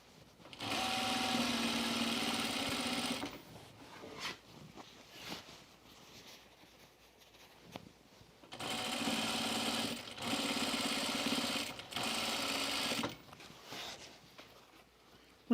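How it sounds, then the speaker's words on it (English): A sewing machine stitches binding down on a cropped jacket in two sustained bursts of steady whirring, with quieter handling sounds and short pauses between them. "Okay, we're just going to stitch this binding down."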